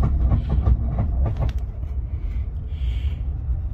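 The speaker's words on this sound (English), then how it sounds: "These pods go every couple of minutes." An automated passenger pod at Heathrow Airport rolls past close by, a steady rumbling run with a few rhythmic clacks early on and a faint whine near the end, no voices.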